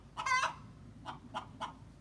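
Backyard pet hens clucking nearby: one loud, drawn-out squawking cluck, then three shorter clucks spaced evenly after it against a quiet background.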